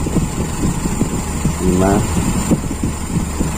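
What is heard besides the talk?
Toyota Kijang carburetor engine idling, about to stall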